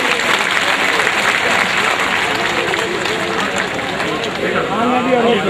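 Loud, sustained applause from a large crowd welcoming a speaker at a community rally, dense clapping heard throughout with a faint murmur of voices mixed in.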